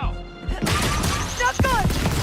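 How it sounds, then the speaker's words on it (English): Sharp blasts from grenades going off in Star Wars Outlaws, a burst of explosions and crashing debris over a couple of seconds, loud and close with layered game effects. "Launching grenades now!"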